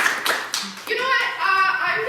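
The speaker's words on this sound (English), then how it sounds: "Give a round of applause for" Audience at a comedy night claps for a performer named Ron: a short burst of hand claps near the start, quickly overtaken by someone talking.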